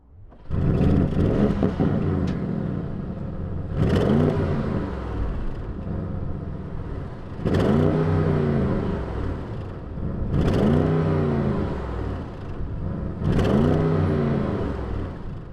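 An Audi RS6 GT engine revs hard four times, each loud rising roar falling back to a throbbing idle between blips, heard up close with no talk.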